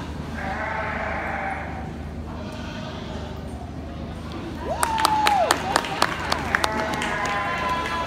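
Goats bleat in a livestock show ring, a few drawn-out wavering calls rising over steady crowd murmur and scattered sharp claps, louder and closer toward the end.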